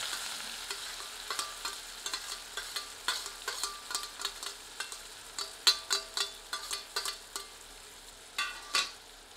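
Onions sizzle and crackle in hot oil for a chicken curry, with repeated scraping stirs of a spoon against the pan at an irregular, unhurried pace.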